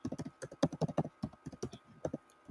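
Quick, close bursts of typing on a computer keyboard, irregular key taps clustered in fast runs with short pauses, alone with no talk.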